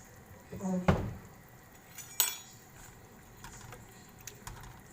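A utensil clinks and scrapes against a pan while stirring food and adding a pinch of salt, a few distinct metallic taps spaced out over quiet background, with a voice speaking softly.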